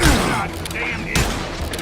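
Gunfire cracks out in a Wild West shootout in the video game Call of Juarez Gunslinger, two or three loud close blasts with ringing tails, over game sound and some speech.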